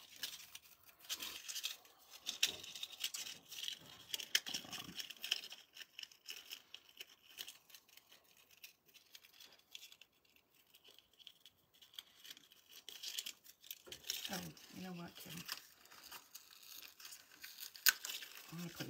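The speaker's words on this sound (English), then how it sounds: "I think I'm going to change it up and put another tag on it" Paper card tag on Paparazzi costume jewelry being pulled off and swapped, with intermittent crinkling and tearing rustles close by, quiet stretches between, then a louder burst of handling near the end.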